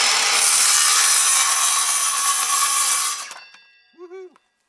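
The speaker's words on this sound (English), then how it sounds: "Do one more with the circular saw." A circular saw rips loudly through tabletop road-building material for about three seconds, then winds down and cuts out, followed by a short electronic beep-like whine.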